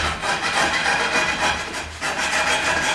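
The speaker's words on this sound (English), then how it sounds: "I can just kind of scrape along this way" A rasp sander combo spinning freely scrapes along a piece of wood, making a continuous loud, close, gritty rasping that swells and eases with each stroke.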